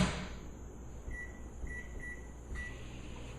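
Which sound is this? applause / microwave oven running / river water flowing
microwave oven running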